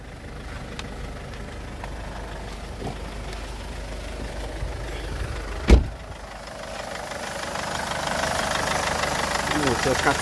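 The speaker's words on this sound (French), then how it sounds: "Moteur 4 cylindres diesel" A 2009 Mercedes-Benz GLK CDI four-cylinder diesel engine with a DPF and EGR problem idles with a steady, knocking rumble, broken by one sharp bang midway before the running noise grows a little louder.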